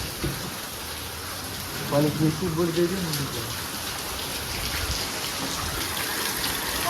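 Heavy rain pours down at 1 a.m. on a house with broken roof sheets, a steady, dense hiss, with a voice speaking briefly partway through.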